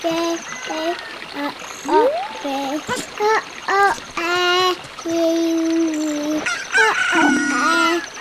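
Several chicken crows and clucks from a Cucco-style chicken in the video game The Legend of Zelda: Ocarina of Time ring out one after another, loud and close, mixed with other bright tones and a busy background.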